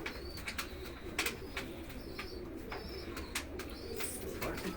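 A pigeon coos softly and repeatedly over a steady low outdoor background, with a few faint chirps mixed in.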